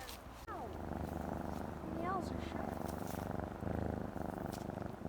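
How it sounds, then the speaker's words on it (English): A steady, rumbling cat purr runs continuously up close, with faint background noise and a brief higher tone partway through. "I see you found the neighborhood junkyard cat."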